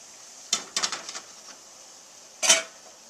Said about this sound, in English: Now the water is boiling, so I'm going to put the steamer on.